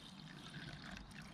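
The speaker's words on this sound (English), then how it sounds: "all we do is pour our water into here" Water poured into a cup: a soft, close trickling and splashing, faint and steady over a brief moment, with no voices.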